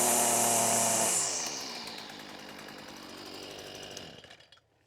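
Petrol strimmer engine after a carburettor repair, loud high-revving buzz that drops off to a rough lower idle, then sputters and cuts out near the end.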